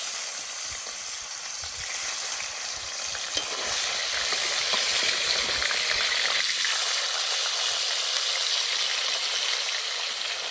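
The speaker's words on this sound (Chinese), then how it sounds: "煎鱼啊，油就是要多一点" Fish fries in plenty of oil in a pan, giving a loud, continuous close sizzle that holds steady throughout, with a few small scraping touches and no speech.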